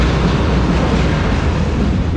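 A log train rumbles past up close, a loud, dense, continuous roar of rolling wagons and rail noise with no break and no voices.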